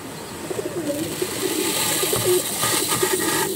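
An Andhra Kalanka star liner pigeon gives soft, repeated cooing phrases close by, partly buried in a steady hiss of background noise.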